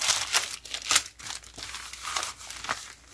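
Scissors cutting paper for a junk journal, a close run of crisp snips and rustles in an uneven rhythm, with the sheet crinkling between cuts in a quiet room.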